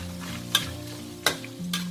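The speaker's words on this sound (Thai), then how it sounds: "เดี๋ยวเราจะทอดค่ะให้หมูของเรานะแห้งค่ะ" Marinated salted pork fries in oil in a pan, a steady close sizzle with a few sharp scraping stirs of a utensil cutting through it.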